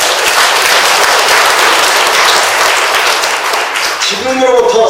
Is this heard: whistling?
no